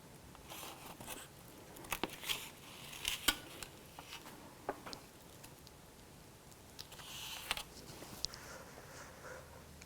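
Baked pumpkin lasagna rollups are cut in a pan, with soft scraping, clinks of a utensil against the dish and sharp little taps scattered over several seconds, close but quiet, with no talk.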